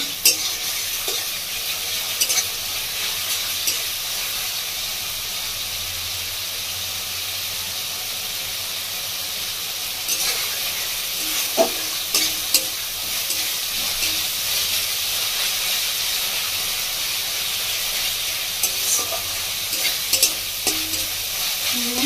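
Stirring chela fish curry as it fries in a pan over a gas flame in a Bengali village kitchen: steady hissing sizzle throughout with scattered scrapes and knocks of the spoon against the pan, close by, with no talking.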